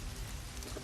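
Steady rain falls in a dense, even hiss, low in level and unbroken for under a second, with no voices over it.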